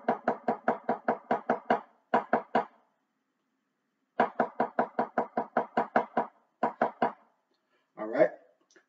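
A drumline plays a 1E-and sixteenth-note pattern: crisp, evenly spaced snare-like strokes in grouped bursts separated by short rests, repeated twice, close and dry, with a brief vocal sound at the end.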